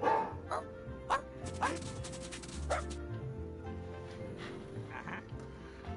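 Dog barking sounds played back by an Alexa smart speaker: several sharp yips and barks spaced across the moment, with whimpering in between over a faint background hum.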